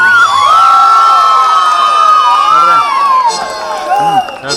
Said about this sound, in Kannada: ಚಪ್ಪಾಳೆ ಮುಖಾಂತರ ಅವರಿಗೆ ಮತ್ತೊಮ್ಮೆ ಪ್ರೋತ್ಸಾಹಿಸಿ.